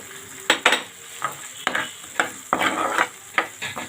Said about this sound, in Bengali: মশলাটা ভালো করে কষিয়ে নেব। দিয়ে দিলাম কয়েক পিস আলু।